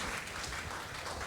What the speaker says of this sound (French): On peut les accompagner par des acclamations.